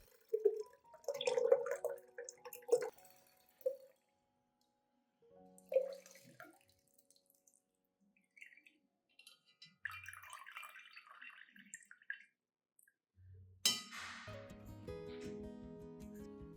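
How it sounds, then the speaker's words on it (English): Liquid extract strained from soaked solids drips and trickles in scattered, close bursts with quiet gaps between, ending in a fuller pour and splash. "strain out the solids and keep only the liquid extract"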